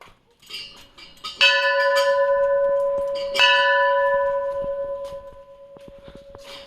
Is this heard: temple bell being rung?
yes